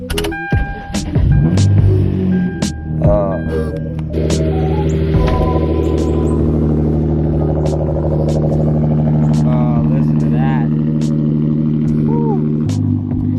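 A Hyundai Genesis Coupe engine fitted with a flame-shooting Wot Box cranks and catches, then settles into a steady idle hum with some whirring and squeaks on top.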